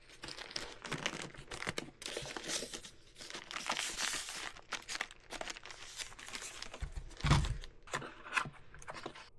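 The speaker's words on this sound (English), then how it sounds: "Now let's go unbox it." Close crinkling and tearing of plastic packaging in irregular bursts as Logitech computer gear is unboxed, with rustles and a thump partway through as items are handled.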